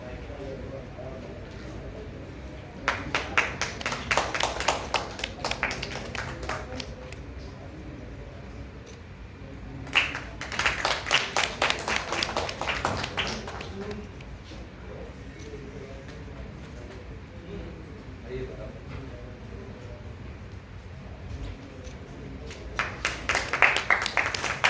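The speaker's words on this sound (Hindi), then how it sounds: "एक बार जोरदार तालियों से स्वागत करिएगा हमारे सभी टीम मेंबर्स का" An audience at a staged play program breaks into rounds of applause welcoming team members and core committee members, three bursts of clapping separated by quieter stretches, with a speaker's voice heard in the hall.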